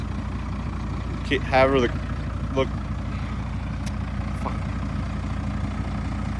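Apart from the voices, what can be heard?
Cummins 12-valve diesel truck engine idling after cold start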